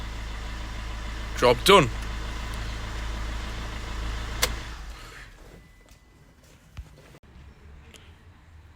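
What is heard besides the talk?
car engine started and idling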